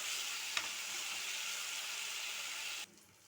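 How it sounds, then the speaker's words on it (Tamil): Turkey berries sauté in oil in a kadai, giving a steady, fairly faint hiss with one brief clack, before the hiss cuts off abruptly near the end. "இதை நல்லா வதக்கி விட்டுக்கலாம்."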